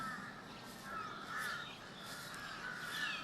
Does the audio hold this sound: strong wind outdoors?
no